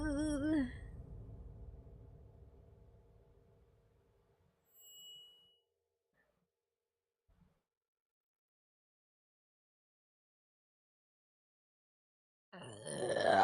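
A single low, guttural burp from a person opens the sequence, a loud voiced eructation that trails off over a few seconds, followed by near silence, one faint thump, and a short burst of noise at the very end.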